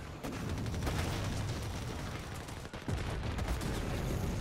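A machine gun fires in Company of Heroes 3 during a battle to defend an airfield, a dense, steady rattle of rapid shots over booming battle noise with a brief dip partway through.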